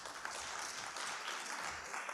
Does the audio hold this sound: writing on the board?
no